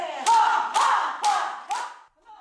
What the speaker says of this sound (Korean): 구령과 함께 박수 소리가 울려 퍼집니다.